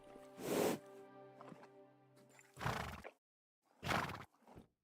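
A horse in Kingdom Come Deliverance 2 neighs and snorts in several separate loud bursts with a brief tonal whinny between them, close and clear over otherwise quiet surroundings.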